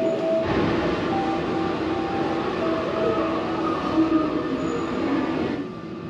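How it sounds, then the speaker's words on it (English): A train pulls into a station in Japan, its steady rumbling roar holding loud and close for about five seconds with faint wheel squeal before easing off at the end. "The train is arriving on track 2."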